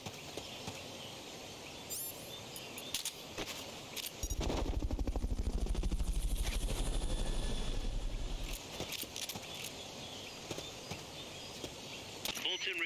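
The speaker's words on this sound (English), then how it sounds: "Fulton recovery subject confirmed onboard helicopter." Helicopter in the video game Metal Gear Solid: Peace Walker, a dense rhythmic rotor chop that swells up for about four seconds among gunfire-like cracks and game effects.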